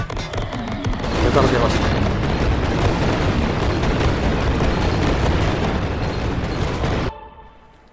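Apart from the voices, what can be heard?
bomb explosions in Greedland video game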